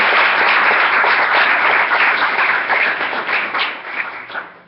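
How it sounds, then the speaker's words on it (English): A crowd at a health education lecture series applauds to welcome a speaker to the stage, a thick run of clapping that stays full, then thins and fades out over the final second. "let's give them a big round of applause"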